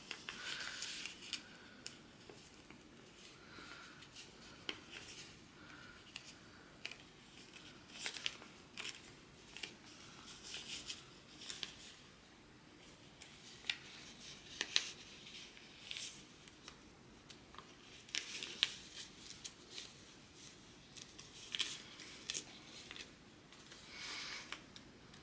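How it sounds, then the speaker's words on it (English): Short stitches tear out of T-shirt fabric in a quilt seam, giving repeated soft, close snipping and ripping bursts in an irregular rhythm over a quiet background. "because we used a short stitch length, it should just tear out."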